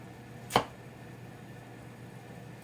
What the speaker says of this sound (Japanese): なかなか乱切りも難しいですね、大きいと。